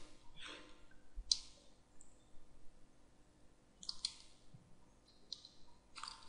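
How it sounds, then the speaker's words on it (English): Fingers tap on a computer keyboard, giving faint, scattered clicks in short clusters against a quiet room hum, with no speech. "So I'm typing it localhost slash laravel apps."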